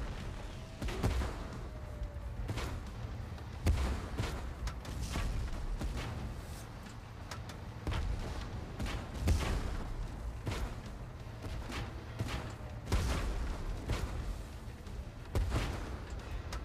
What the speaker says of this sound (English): We are under gunfire.